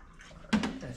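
Coolant being poured into the radiator of a 1978 Lincoln, a short burst of liquid splashing and gurgling that starts halfway through, close and fairly loud after a quiet lead-in.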